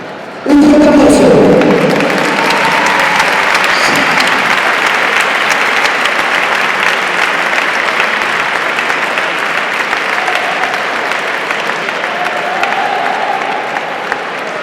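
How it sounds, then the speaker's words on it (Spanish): A crowd at a boxing tribute event in A Coruña breaks into loud, sustained applause after a brief voice, clapping densely at a steady level before easing slightly at the end. "Un fuerte aplauso."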